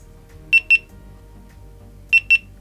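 GoPro camera syncing its clock from a QR code, giving two quick pairs of short, high electronic beeps about a second and a half apart, close and clear over faint room noise.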